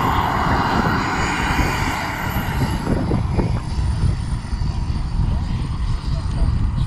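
A radio-controlled model jet engine taxis on the airport ground at a jet rally in Wilson, North Carolina, giving a loud, close turbine roar with a high, thin whine on top, while people talk faintly in the background.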